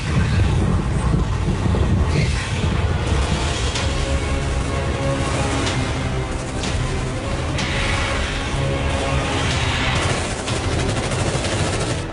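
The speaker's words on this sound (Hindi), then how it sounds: "लेकिन कभी ऐसा तूफान नहीं देखा।" A fierce storm wind roars on Mars in a Hindi-dubbed sci-fi film, a loud, dense, unbroken blast that stays constant throughout, with rumbling gusts and scattered crackling debris layered into the din.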